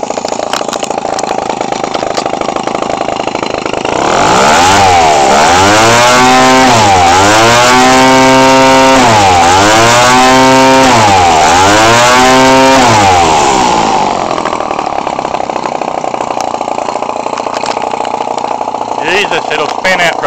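An Echo 20cc gas engine on a radio-controlled airplane spins its propeller, loud and close. Its buzzing drone revs up and down in several repeated swells and then settles back to a steady high idle.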